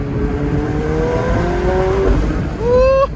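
A straight-piped McLaren 720S heard from inside while driving, a loud droning engine note that climbs in pitch as it revs, shifts down, then rises again sharply.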